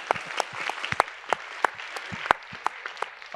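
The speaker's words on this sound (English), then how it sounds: "I think we need here a big round of applause to support his self-esteem." A panel discussion audience breaks into applause, with scattered individual claps ringing out sharply and unevenly through a brief, moderately loud round.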